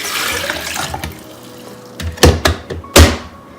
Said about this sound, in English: So I get however much water I'm planning to turn into tea.